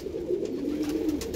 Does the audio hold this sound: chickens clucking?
no